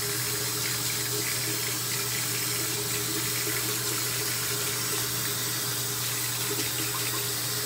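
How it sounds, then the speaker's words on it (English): A bathroom tap runs steadily while a face is rinsed, a constant close rush of flowing water with no pauses, alone with no voices. "I'm gonna rinse my face now."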